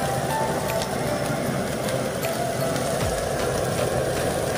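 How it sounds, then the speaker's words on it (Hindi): Garlic and green chilli fry in hot oil in a pan, a loud, steady sizzle that hisses continuously without pause. "अभी डालेंगे हमारा जो लहसुन है और हरा मिर्च, तो इसको थोड़ा सा हम लोग फ्राई करेंगे इसके अंदर"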